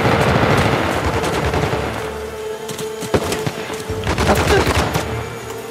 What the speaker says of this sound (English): Who is shooting and where are they?